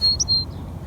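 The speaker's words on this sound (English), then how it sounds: "You hear the birds?" Birds chirp in a garden at the Barkley Farmstead, a few bright, high tweets in the first half second, then a faint trailing call over a low outdoor rumble.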